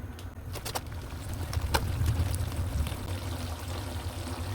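Water poured steadily into a pan of sautéed, mashed tomatoes for tomato thokku, a continuous low rushing splash that swells midway and holds to the end.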